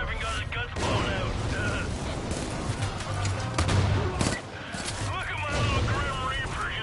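Gunfire in Far Cry New Dawn, with rapid bursts and sharp shots over a dense game mix, a voice talking over the shooting.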